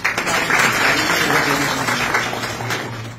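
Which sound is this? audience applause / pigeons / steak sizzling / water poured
audience applause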